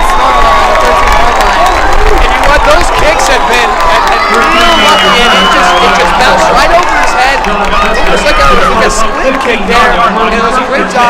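A high school homecoming football crowd at Lassiter versus Pope cheers loudly and steadily, a dense roar of yelling voices and shouts that carries on without a break, with a commentator's voice audible over it.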